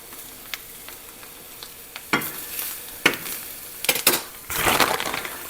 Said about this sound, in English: The heat will finish cooking the egg.